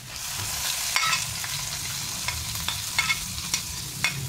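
Lumpia filling fries in a pan with chili added, a continuous close sizzle under repeated scraping and tapping strokes of a spoon stirring through it.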